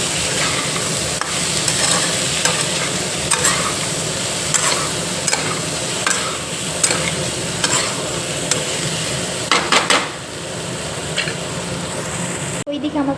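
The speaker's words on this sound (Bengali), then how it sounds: "একটু দিয়ে একে নাড়াচাড়া করে ভেজে নেব।" Potatoes, peas and fenugreek leaves sizzle steadily in a pan while a spatula scrapes and stirs them in repeated strokes close by.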